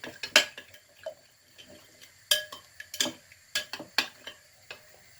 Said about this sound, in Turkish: İyice karıştırıyorum arkadaşlar. Çırpıyorum.